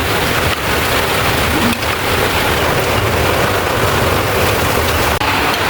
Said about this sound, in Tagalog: Ay, ang lakas ng ulan sa labas.